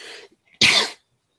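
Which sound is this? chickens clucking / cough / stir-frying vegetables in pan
cough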